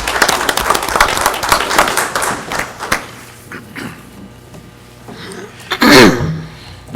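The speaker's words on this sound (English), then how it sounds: "Let's give them a round of applause for all the work they do." Applause at a regular city commission meeting, a scattered round of clapping from a modest audience that thins out into a few isolated claps and room noise.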